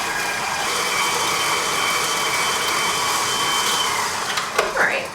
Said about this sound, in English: we're just gonna go ahead and get that in our stand mixer first. Paddle attachment first.